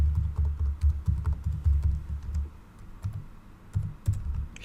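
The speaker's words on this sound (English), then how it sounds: "let's type some email related to this person" Typing on a computer keyboard, a steady stream of soft, close keystrokes with a brief slowdown partway through, heard alone without speech.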